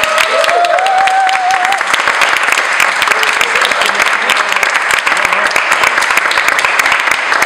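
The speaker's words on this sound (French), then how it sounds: "un tonnerre d'applaudissements." An audience breaks into loud, sustained applause, dense steady clapping that fills the whole stretch with no pause.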